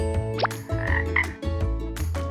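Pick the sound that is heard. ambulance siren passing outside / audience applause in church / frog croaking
frog croaking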